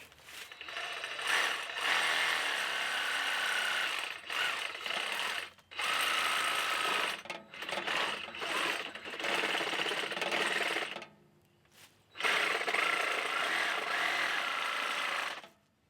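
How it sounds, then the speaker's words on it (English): A Sawzall reciprocating saw cuts through a pig carcass during butchering, a loud rapid buzzing rasp in long bursts separated by brief pauses, close up, with no talking. "You can go in a lot straighter line using a Sawzall than you do using a handsaw."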